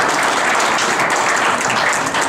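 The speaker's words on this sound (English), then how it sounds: "a round of applause again for Yark" Dense, steady applause from a crowd fills the whole stretch at close range, with a few faint voices mixed in as the clapping holds evenly throughout.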